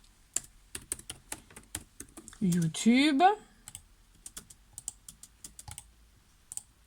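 Close clicking keystrokes on a computer keyboard come in scattered taps and short runs, with a brief burst of French speech partway through.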